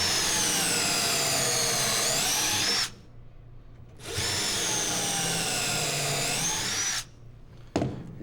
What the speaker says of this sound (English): Clamp your material and drill your pocket hole.